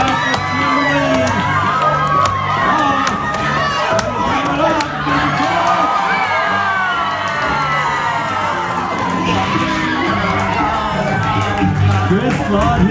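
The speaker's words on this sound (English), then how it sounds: "Who's cheering for Chris over here?" Loud, sustained crowd of cheering children and adults at a lumberjack show chopping contest, with whoops and shouts swelling throughout, a dense roar of voices close and continuous for the whole stretch.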